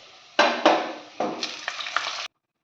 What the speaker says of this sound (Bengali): তেল গরম হয়ে গেছে, এর মধ্যে আমরা পেঁয়াজটা দিয়ে দেব।